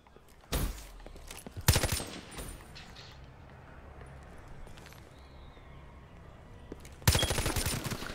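Loud, close gunshot bursts in Black Ops 3: a short volley near the start, another soon after, a long quiet stretch, then a final rapid burst near the end.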